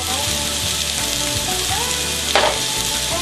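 Salted onions cook down in a pan toward caramelizing, giving a constant loud, close sizzle with a brief scrape of stirring partway through.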